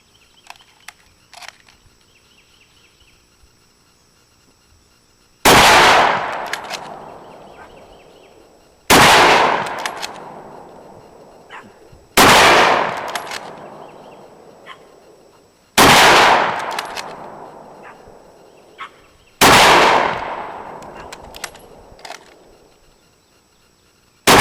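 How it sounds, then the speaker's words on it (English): A Lee-Enfield No.1 Mk.III SMLE bolt-action rifle fires five loud, booming shots at steady intervals of roughly three seconds, each with a long echoing decay, with no talking. "We're going to show you the rapid fire aspect of a Lee-Enfield due to the cock on closing bolt."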